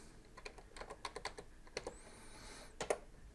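A new password is typed on a computer keyboard connected to a Raspberry Pi. Quiet, irregular key clicks come in quick bursts, close and faint, with no talking.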